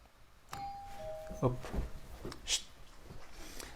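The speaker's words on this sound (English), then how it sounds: "sorry, the doorbell." A two-tone electronic doorbell chimes once, clear and moderately near, followed by muffled movement and a brief voice in the background.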